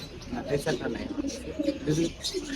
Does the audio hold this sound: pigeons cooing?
yes